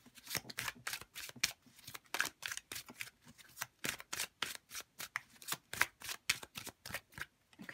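Tarot cards are shuffled and laid out on a table, making quiet, close, rapid riffling flicks and soft slaps in a steady, busy rhythm.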